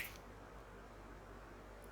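A single crisp finger snap right at the start, then near silence with only faint room hiss.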